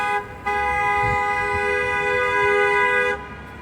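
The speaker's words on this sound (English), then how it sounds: "you just be honking for no reason." A car horn blares in one long, loud, steady toot for about three seconds, close by and clear over faint background noise.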